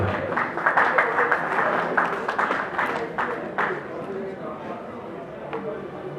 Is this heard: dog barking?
no